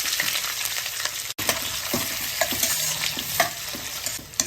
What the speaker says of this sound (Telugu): ఉల్లిపాయలు కలర్ మారేంత వరకు వేయించాలి